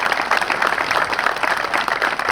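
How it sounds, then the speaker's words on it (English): An audience applauds at a sniper challenge event, a dense, steady wash of many hands clapping at moderate loudness throughout the short stretch. "let's give a round of applause for Chris Andrews and the staff."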